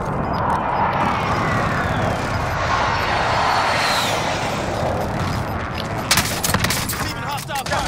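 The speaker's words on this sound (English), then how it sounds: "Hear people shooting over this way, mate." Gunfire in Call of Duty Warzone, a steady stream of shots crackling at middle distance under a continuous background wash, with a few sharper, closer bursts toward the end.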